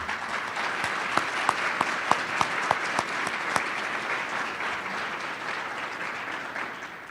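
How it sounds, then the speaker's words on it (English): A school district awards audience gives Newport News Education Foundation members a round of applause: dense, sustained clapping with a few sharp nearby claps standing out, fading slightly toward the end. "if you'll please stand so we can give you a round of applause"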